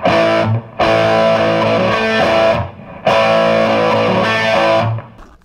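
A 3 Monkeys Orangutan guitar amp driven with boost engaged and volume raised, loud distorted guitar chords ringing out in two long sustained phrases with short gaps between.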